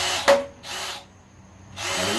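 A power drill bores into the timing cover of an engine destined for a 1951 Chevy: a brief high-pitched whine stops abruptly, followed by two more sustained bursts of drilling separated by quiet pauses, close and fairly loud.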